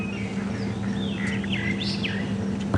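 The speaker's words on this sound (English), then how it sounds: "we can hear quite a few fork-tailed drongas chirping around." Several fork-tailed drongos chirp and whistle in quick swooping calls over a steady low rumble of a safari vehicle engine in the background, at Djuma Game Reserve.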